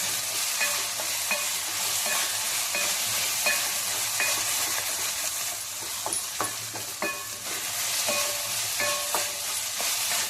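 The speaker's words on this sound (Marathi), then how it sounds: "थोडंसं तेल घालायचं वरून. आता हे लसूण हे मिक्स करून घे." Garlic stirred and frying in oil in a pan, a steady bright sizzle with repeated scraping strokes of a spoon running throughout, close and fairly loud, no voices.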